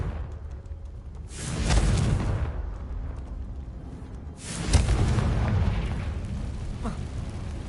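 Two heavy explosive booms from a fire spell cast in the Hogwarts Legacy video game, each a broad burst rolling out over about a second, spaced a few seconds apart against steady game ambience.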